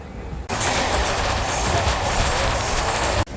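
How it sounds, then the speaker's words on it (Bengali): A Howrah–Jaleswar MEMU train rolls out of Santragachi station, a steady loud rumble with wheels clattering on the rails, heard from on board and without voices. "সাঁতরাগাছি স্টেশনে দাঁড়িয়ে অবশেষে ছাড়লো।"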